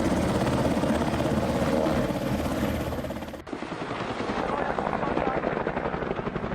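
Loud, steady helicopter rotor thumping and engine roar close by, briefly cutting out partway through and then resuming with a choppier beat.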